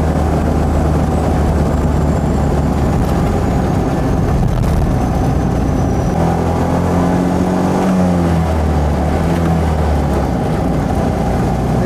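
A Trojan 200 (Heinkel Kabine) bubble car running at full throttle around 42 mph: a loud, constant, buzzing small-engine drone with a pitch shift partway through, heard close from inside the cabin.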